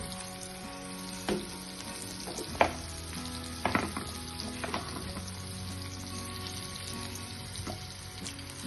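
Mashed eggplant fries in a pan for Khandeshi bharit with a steady, close sizzle, broken by a few sharp scrapes and clatters of stirring, no voices.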